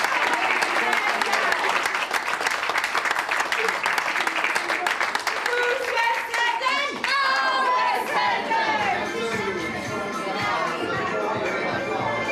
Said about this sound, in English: So massive round of applause to all of you.